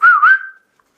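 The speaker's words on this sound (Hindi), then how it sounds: "कॉफी पीने के बाद सीटी निकलती है आराम से ना।" A person whistles one short, clear note that bends slightly in pitch, loud and close, then fades quickly into silence.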